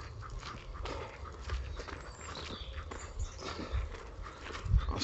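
Dogs out on a walk, with a steady mix of paws, footsteps and movement close by. The sound is busy and continuous outdoor rustle and trotting, with a few louder thumps near the end.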